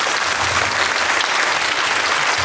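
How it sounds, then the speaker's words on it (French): An audience claps for the performers after a full stage show in Crémieu, the applause dense, steady and loud from start to finish without a break. "Applaudir bien fort les artistes."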